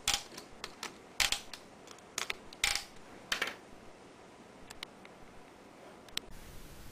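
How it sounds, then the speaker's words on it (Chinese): A torque wrench tightens screws in sequence on a microfluidic chip assembly, sharp ratcheting clicks in quick irregular bursts, close and clear, thinning out toward the end. "再以扭力扳手依序将螺丝旋紧"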